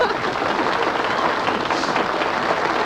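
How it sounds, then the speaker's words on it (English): A studio audience claps throughout, producing a steady, broad roar of many hands at even loudness, close and full, with no talking on top. "You ask for applause, you're going to get applause, boy."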